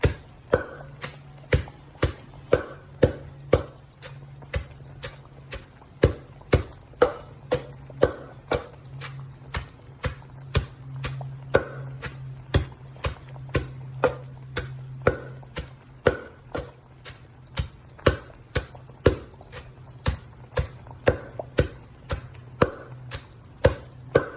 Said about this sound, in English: she's gonna add the onions, the diced onions, and pound it all together